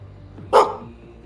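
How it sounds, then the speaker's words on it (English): Sammy the dog lets out one sharp, loud bark nearby, a single burst in an otherwise quiet room. "First bark of the day is usually Sammy."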